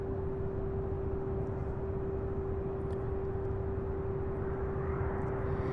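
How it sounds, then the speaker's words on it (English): UPS Boeing 767 arriving at Louisville's UPS Worldport, a faint, steady distant jet rumble with a constant low hum, no talking. "This one here arriving out of Windsor Locks, 767, UPS"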